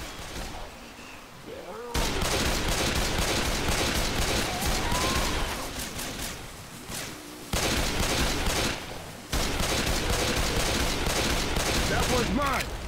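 Rapid sustained gunfire in Left 4 Dead, loud bursts of automatic weapons in long stretches with brief pauses between them, plus character voices calling out in between.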